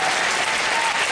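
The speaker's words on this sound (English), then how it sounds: "Let's just take a second to applaud all of us here." Audience applause at a live show: a dense, steady wash of many hands clapping close by, filling the whole brief moment without a break.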